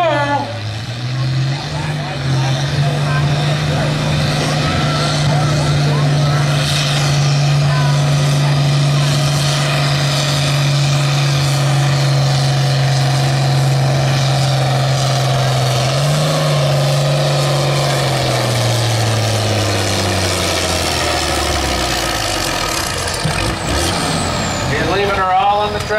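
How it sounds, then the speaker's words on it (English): A stock tractor at a tractor pull roars under heavy load, its engine drone holding a steady low pitch for about fifteen seconds before winding down, loud and close, with a commentator's voice over the outdoor arena. "The stock tractors are out in full force."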